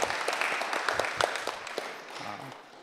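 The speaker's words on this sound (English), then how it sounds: "a round of applause to the parents" A crowd gives a round of applause to parents at a resolution presentation, a dense wash of scattered clapping with a few louder claps standing out and a voice briefly heard underneath.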